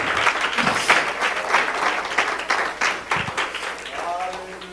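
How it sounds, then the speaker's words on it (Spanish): Church congregation applauding during a sermon, fairly close, uneven clapping with individual claps audible and voices speaking over it toward the end. "Denle un aplauso al Señor."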